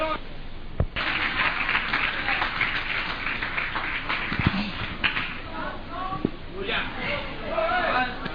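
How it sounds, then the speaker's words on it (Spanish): A church congregation breaks into applause, a rough burst of clapping that runs beneath voices and shuffling movement, fairly close and uneven in loudness. "Denle un aplauso al Señor."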